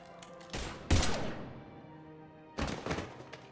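Gunfire in the video game Mass Effect 3: two separate bursts of close, loud shots with short thumping impacts. A quiet stretch with a fading tail lies between them.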